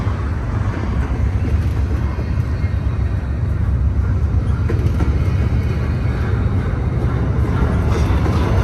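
Freight train cars in good condition roll steadily past up close, a loud continuous rumble with faint rhythmic clacking of wheels over the rails.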